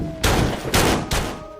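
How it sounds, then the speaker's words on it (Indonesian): Three loud, close gunshots from the film The House That Jack Built, fired in quick succession about half a second apart, each with a short ringing tail. "polisi yang datang pun langsung ditembak oleh Jack."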